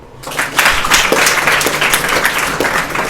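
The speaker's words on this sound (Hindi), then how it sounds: "फिर से तालियां" A school audience bursts into sustained applause, dense clapping that swells quickly and continues steadily throughout.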